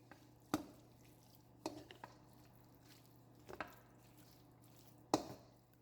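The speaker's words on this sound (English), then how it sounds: "I'm going to add my seafood mixture to that, and I'm just going to combine and mix well." Crumbled baked cornbread being mixed with a seafood mixture for dressing: a few sharp utensil knocks and soft squishy stirring sounds spaced irregularly over a low hum, quiet and close, with no talking.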